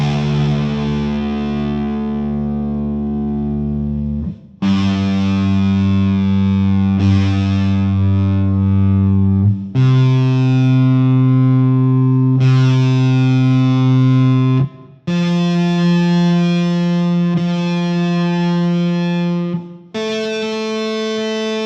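A heavily distorted electric guitar sounds a run of sustained tuning pitches, each note held for a few seconds and then cut off before the next, loud and close with no talk.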